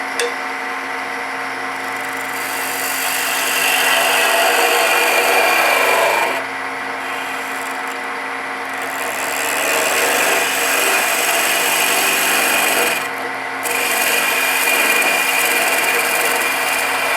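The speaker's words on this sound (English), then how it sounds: "It's a little bit of a difficult cut to make, so if you pull your spindle gouge" A spindle gouge with a fingernail grind, sharpened to about 30 degrees, cuts wood on a lathe in multi-axis spindle turning, giving a steady loud rasping, scraping hiss in long sustained passes with brief pauses between cuts.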